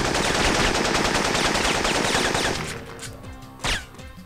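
Rapid automatic gunfire from the video game Syphon Filter rattles loudly in a continuous burst, then breaks off into a few sparse, separate shots.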